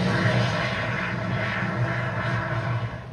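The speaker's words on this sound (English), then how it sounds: "This is Electra's Ultrashort, meant to compete in the new flying car craze." A propeller-driven Electra Ultrashort, an ultrashort-takeoff plane built to land in small spaces, flies overhead with a steady, moderately loud engine drone and a faint tonal whine.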